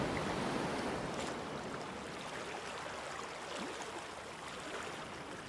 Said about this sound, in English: listen to the rhythmic symphony of the waves crashing onto the shore.